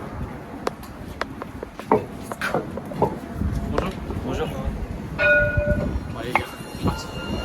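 A tram passes along a city tram line, with rail rumble, clanks and a brief ringing bell or signal tones near the end, heard under people talking close by while walking.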